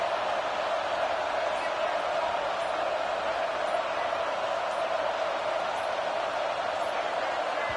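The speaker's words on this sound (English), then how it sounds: "Fans are bringing the noise on first and goal" A stadium crowd roars in an American football video game featuring the Arkansas Razorbacks, a steady, loud wash of noise on first and goal that holds without a break from start to finish.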